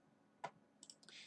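A few quiet clicks from a computer mouse while character-building software is in use, arriving as a single tap followed by a short cluster of small clicks.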